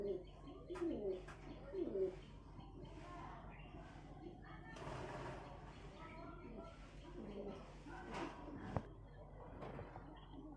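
Pigeons coo at a small pigeon farm, producing soft, low, rolling coos in a few short bursts near the start amid faint chirps, with quiet talk running through the background.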